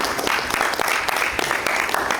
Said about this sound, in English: If you guys would please give a round of applause to Mr. Jovan Alfonso